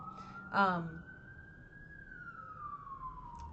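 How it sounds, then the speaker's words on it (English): A police siren wails outside in a long, slowly sweeping tone from a distance, with a brief voice cutting in near the start. "Sirens. Usually I edit them out, but I'm trying not to edit so much."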